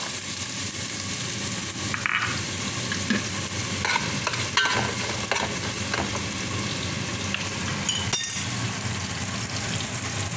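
Onion frying in oil for fish salona, a constant dense sizzle with occasional stirring scrapes and light clinks of a utensil against the pan.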